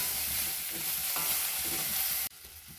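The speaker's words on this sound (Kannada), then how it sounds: "ಬೆಂಡೆಕಾಯಿಯ ಲೋಳೆ ಬಿಡೋ ತನಕ ನಾವು ಇದನ್ನ ಫ್ರೈ ಮಾಡ್ಕೊಬೇಕು" Okra with a pinch of turmeric fries in a pan for Udupi-style bendekai huli, a steady close sizzle with scraping stirring strokes. The sizzle drops abruptly near the end.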